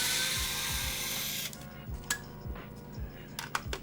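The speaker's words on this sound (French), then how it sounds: "maintenant j'ai mon tournevis électrique qui m'aide à aller plus rapidement" Electric screwdriver backing screws out of a Nintendo GameCube console, a near, quiet whirring burst followed by short clicks and taps of small parts.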